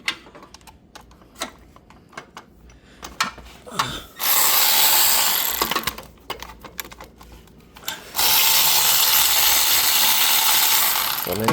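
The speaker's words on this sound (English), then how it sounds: "So we're using a 12mm socket right there" Ratchet with a 12mm socket working bolts on a Mitsubishi Outlander AC compressor: close clicking pawl strokes, then two long loud bursts of dense rapid ratcheting, with no speech.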